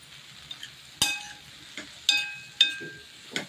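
Boiled cauliflower is sautéed in a pan with a spatula, quiet sizzling underneath a few sharp metallic clinks and scrapes against the pan at irregular intervals, close by with no talk.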